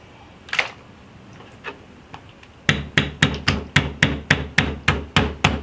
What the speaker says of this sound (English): I will use my pastry roll, okay, to beat the octopus just before cooking